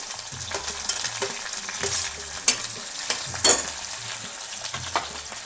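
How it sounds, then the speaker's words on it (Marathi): Chopped onion sizzles steadily in hot tempering oil with green chilli pieces and a pinch of sambar masala, a spoon scraping and stirring it in irregular strokes close by, with no talking. "थोडासा ह्याच्यामध्ये फोडणीमध्ये सांबार टाकू. त्यानंतर आपण कांदा टाकू."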